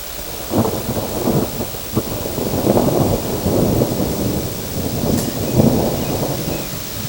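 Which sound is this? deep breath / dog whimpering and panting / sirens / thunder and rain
thunder and rain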